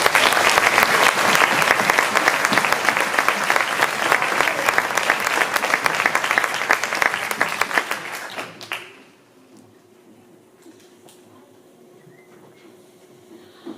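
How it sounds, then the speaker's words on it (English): Loud, dense applause from a crowd at a school band awards concert fills the first eight seconds, then cuts off abruptly into a quiet room with a low hum. "Let's give them a big round of applause."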